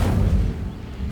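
Incendio fire spell cast in Hogwarts Legacy against dry vines, a deep booming whoosh with heavy low rumble that stays loud and steady, then eases slightly.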